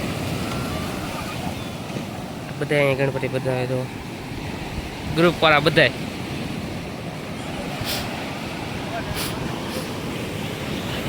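Rough, stormy sea surges against the shore during a Ganesh immersion gathering, a constant washing roar with wind buffeting the microphone, as someone speaks briefly twice over it.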